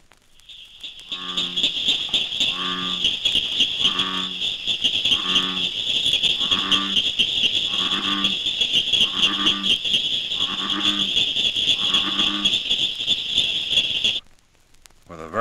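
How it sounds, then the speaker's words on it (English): An American bullfrog's deep, resonant call repeats in steady pulses, about ten low droning croaks in a row, loud and close, over a constant high insect-like hum. "The largest of all North American frogs is a bullfrog, Ranicates biana. Its bass voice can be heard"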